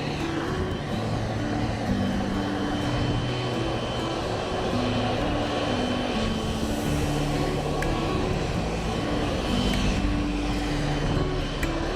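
Aircraft engines at Magadan airport roar steadily and loudly for the whole stretch, a continuous droning hum with shifting engine tones and no pauses or talk.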